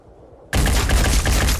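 A free-aim shot in Phoenix Point unleashes a sudden loud burst of gunfire after a quiet moment, a rapid string of close, overlapping reports that continues to the end.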